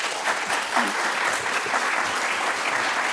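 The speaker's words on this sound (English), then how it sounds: "One more round of applause, please." Steady applause from the audience at a university public health equity lecture, a dense, even wash of clapping that carries at constant loudness from start to finish with no talk over it.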